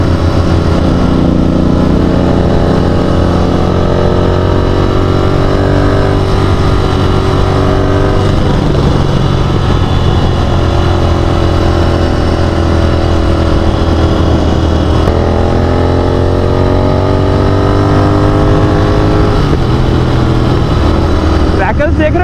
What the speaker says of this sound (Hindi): पॉप्स एंड क्रैकल्स आ रहे हैं इस एग्जॉस्ट में